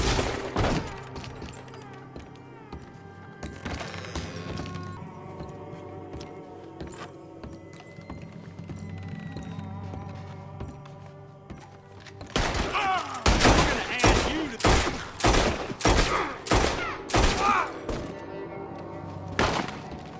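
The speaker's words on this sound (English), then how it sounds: "Come out where I can shoot you!" Gunfire shootout in Red Dead Redemption 2, scattered shots and thuds under game music that gives way to a dense burst of loud, rapid gunshots in the second half, with some game voices.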